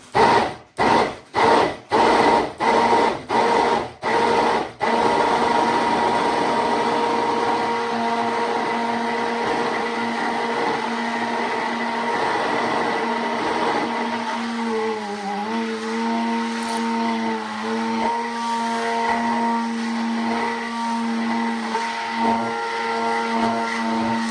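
An immersion blender whisks aquafaba into chickpea vegan mayo, starting with several short pulses and then settling into a continuous whirring whine whose pitch shifts slightly as the mixture thickens.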